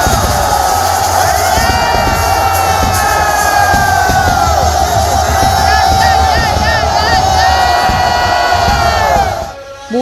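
A crowd at a temple flag-hoisting ceremony in Kerala roars out a shouted reply in unison, a loud, sustained wall of cheering and whoops that holds for about nine seconds before abruptly dropping away.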